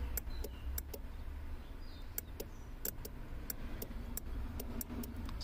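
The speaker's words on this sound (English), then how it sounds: "It's turning the fuel pump on when I do that." Relay clicking on as the fuel pump is energized in a 2014 Honda CR-V 2.4L AWD, heard as a series of sharp, quiet ticks scattered over a low, steady background hum.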